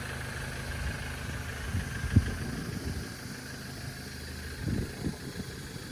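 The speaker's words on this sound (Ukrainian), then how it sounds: "Автомобіль працює дуже класно." A 2010 Renault Trafic van with a 2.0 engine idles steadily, a low continuous rumble close by with a brief knock partway through and slight variations in tone.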